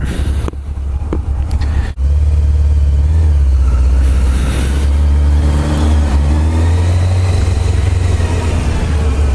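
An old motorcycle, already warmed up, idles with a steady low rumble, then revs and pulls away, its loud engine drone holding close and constant with rising throttle swells.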